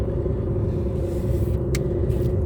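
A car engine holding steady throttle while climbing a ramp, a loud continuous droning hum with a firm low rumble, heard close from inside the car with no talking.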